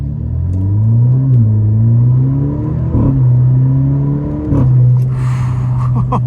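An Alfa Romeo Giulia engine, driven in manual mode, revs up from a stop in a loud sustained climb. The pitch rises and settles twice, with brief dips between gear changes.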